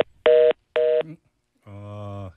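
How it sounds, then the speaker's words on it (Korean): Telephone line beeping as a broadcast interview call drops: two loud, evenly spaced electronic beeps, then a longer buzzing tone, clean and prominent with no voice over them. "지금 전화 인터뷰 도중에 전화가 끊겼습니다. 갑자기 삐삐 소리가 나는데"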